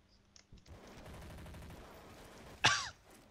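A single loud, sharp gunshot cracks close up in the video game Counter-Strike, rising out of a low, murmuring game background and quickly dying away.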